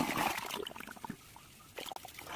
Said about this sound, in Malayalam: ഇതാണ് അടുക്കള വേസ്റ്റ് ഒഴിക്കുന്നത്.